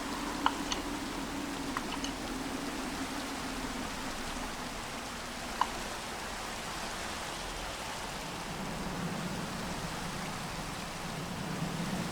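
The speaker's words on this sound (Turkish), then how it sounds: "yağmur başlıyor." In a zombie survival video game, rain begins falling as a faint, steady hiss of drops with a low ambient hum, broken by a few brief clicks.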